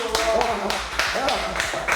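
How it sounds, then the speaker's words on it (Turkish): Scattered hand claps, a handful of sharp taps spread across two seconds, mixed with a murmur of voices close by. "Alkış alkış."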